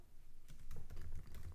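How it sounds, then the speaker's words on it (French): Brief burst of quick keystrokes on a computer keyboard, clattering close and clear in an irregular rapid rhythm, with no voices. "Je vais taper yoga débutant"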